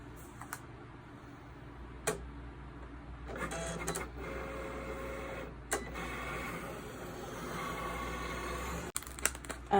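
A Cricut cutting machine working on smart material whirs with intermittent mechanical buzzes and clicks as the carriage moves, quiet and close, short bursts separated by steadier running hum.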